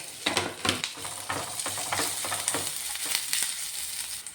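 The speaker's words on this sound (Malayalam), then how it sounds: "ഒരു രണ്ട് തണ്ട് കറിവേപ്പില കട്ട് ചെയ്തതും ഒരു രണ്ട് പച്ചമുളക് അരിഞ്ഞതും കൂടെ ചേർത്ത് കൊടുത്ത് വീണ്ടും ഒന്ന് മൂപ്പിക്കാം" Ginger, garlic, curry leaves and chopped green chilies sautéing in a hot pan, a steady close sizzle broken by repeated scraping strokes of a spoon stirring through the mixture.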